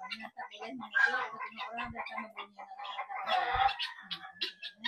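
Chickens clucking close by, busy repeated clucks and squawks, with people talking over them.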